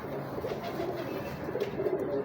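A pigeon coos close by in soft, repeated low throaty phrases over a steady murmur of background noise.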